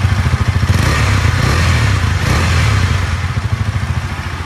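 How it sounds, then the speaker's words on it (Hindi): A Husqvarna Vitpilen 250 motorcycle engine is revved up close, the exhaust note rising from a pulsing idle into a louder blip and then settling back to a rhythmic low throb. "चलो गाइस एग्जॉस्ट नोट आप लोगों को सुना देता हूँ कि नया इंजन पे एग्जॉस्ट नोट आप लोगों को कैसे मिलेगा।"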